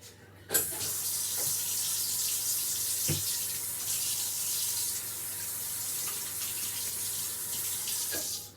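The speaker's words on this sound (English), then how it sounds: "But first I'm going to go wash my hands." A kitchen tap runs steadily into a sink while hands are washed, a close, continuous hiss of water with a few brief splashes and clunks.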